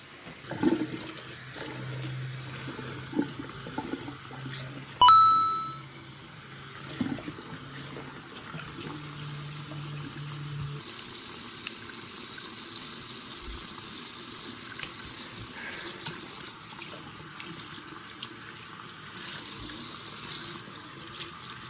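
Tap water runs steadily while hair bundles are washed in a sink, a constant close hiss with a sharp clunk partway through and faint handling sounds.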